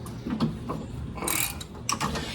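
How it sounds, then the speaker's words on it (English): A hand ratchet wrench works on a part of an old truck. It makes a close series of dry mechanical clicks with broadband bursts, including a brighter burst in the middle and another near the end, over a steady low background. No one speaks. "It turns easy with the wrench because it won't like ratchet back"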